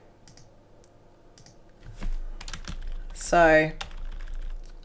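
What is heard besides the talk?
typing on a computer keyboard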